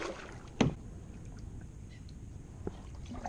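A kayak paddled canoe-style at Boca Ciega Millennium Park gives a sharp close splash of the paddle, then soft water gurgles and a fainter stroke, quiet and alone.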